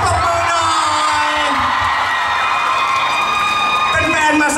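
An audience at a fan meeting in Bangkok claps and cheers with whoops and yells, a loud steady crowd roar with voices talking over it.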